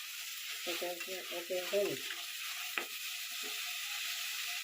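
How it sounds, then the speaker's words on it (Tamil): Tomatoes frying in a pan for potato and moong dal salna, a soft, steady sizzle close by with a few brief stirring clinks and scrapes near the start. "அதில் போட்டுக்கணும் தக்காளி பழம் நல்லா வேகணும் வேகி அதோட ரசம் எல்லாம் அதுக்குள்ளே"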